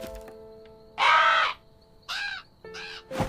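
Crows cawing in an animated scene, three loud harsh caws in quick succession, close and alone with no talk.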